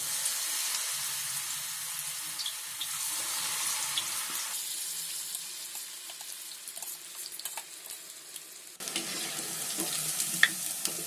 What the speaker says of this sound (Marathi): तेल तापलंय तर त्याच्यामध्ये मी भजी सोडते.